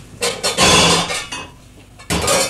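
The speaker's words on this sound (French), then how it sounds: "Et pour cela, je vais prendre une casserole." Pots and pans clank and clink in a kitchen as a saucepan is picked out, several bright metallic knocks and rattles close by, a loud burst early on and another at the end.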